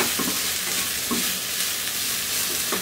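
Chopped red chilli frying in a pan, a loud, dense sizzle running continuously, with a few soft stirring scrapes beneath it, up close.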